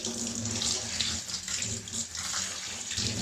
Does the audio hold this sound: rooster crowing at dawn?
no